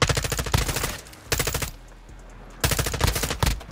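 Assault rifle gunfire in Modern Warfare 2, loud rapid automatic bursts in two long strings split by a brief pause, close and dominant.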